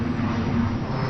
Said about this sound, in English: There's a nice loud aeroplane overhead goes by.